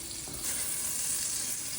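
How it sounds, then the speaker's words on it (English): Butter sizzling in hot oil in a pan gives a steady, bright frying hiss that swells slightly and holds constant, close and loud, with no voices. "I need a glug of oil. And to add additional flavor, I'm going to add some butter."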